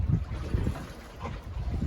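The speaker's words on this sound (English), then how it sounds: "There's a yacht under motor coming at me right now." A motor yacht cruises close by on a river, its low engine drone rumbling steadily beneath gusty wind buffeting the microphone.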